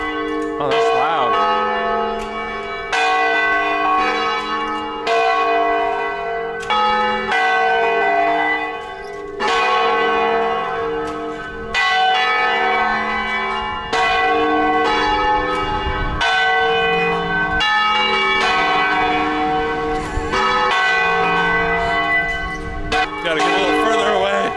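Church bells in Válega, Portugal, ring out loud and close in a steady run of repeated strokes, their overlapping tones hanging together for the whole stretch with no pause.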